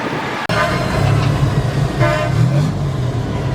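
A vehicle horn honks at a ferry port, two loud sustained blasts separated by a short gap, over the steady rumble of engines and traffic.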